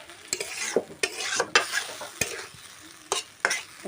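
Masala fries in oil in a pan under a soft sizzle, broken by repeated sharp scrapes and clatters of a spatula stirring against the pan at an irregular pace.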